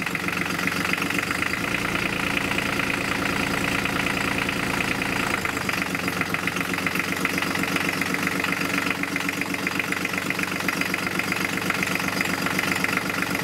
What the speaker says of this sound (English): I shall go and start the engine.